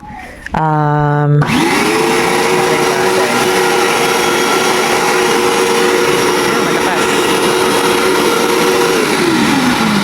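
A short voice or tone, then a vacuum cleaner switches on and runs with a loud, steady whine close by.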